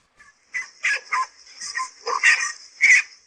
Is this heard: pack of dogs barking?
yes